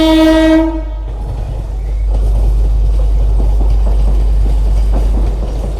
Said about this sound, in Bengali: এই যে দেখো এখন মেন লাইনে কিন্তু ট্রেন ঢুকে গেছে